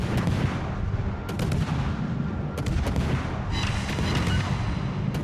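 Naval guns fire shells in the World of Warships video game, a dense, loud barrage of booming reports and sharp cracks rolling continuously over a steady rumble.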